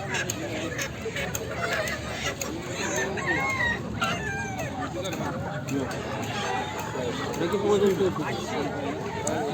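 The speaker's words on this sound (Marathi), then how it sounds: "अशा प्रकारच्या कोंबड्या त्याचबरोबर कोंबडे आपल्याला या लोणंदच्या बाजारामध्ये पाहायला मिळत आहेत" Country chickens and roosters at the Lonand poultry market, with a dense chorus of clucking and repeated crowing from nearby birds amid a busy crowd hubbub, with voices talking throughout.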